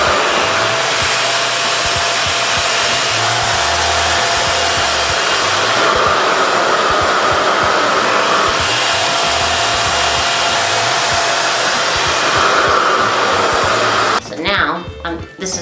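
A RevAir hair dryer blow-drying type 4 natural hair runs as a loud, steady close-up roar for most of the stretch, then cuts out near the end and leaves a few uneven rustles.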